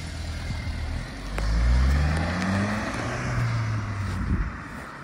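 Suzuki Swift Sport Stage 1 car accelerating, its engine note rising in pitch as it pulls away amid outdoor wind noise, fairly near and steady, swelling then easing.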